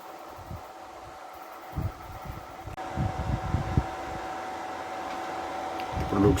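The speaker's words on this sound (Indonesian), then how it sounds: "Yang berbunyi ini adalah power supply-nya" A power supply in a water-fuel hydrogen reactor rig hums steadily at a low, even level under a continuous fan-like hiss, with faint rustling and handling noises.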